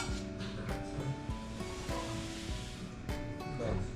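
Granulated sugar poured into a cooking pot makes a steady, close hissing rush that runs throughout, with faint tonal background sounds underneath.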